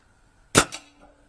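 A Boston Le Protecteur air rifle fires a single pellet: one sharp, close crack with a brief decaying tail, then quiet.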